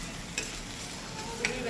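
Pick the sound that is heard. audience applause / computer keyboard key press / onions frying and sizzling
onions frying and sizzling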